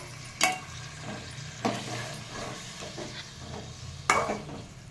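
A spoon stirring and mixing biryani ingredients in a pot over steady frying sizzle, with three distinct scraping clanks of the utensil against the pot spaced a second or two apart.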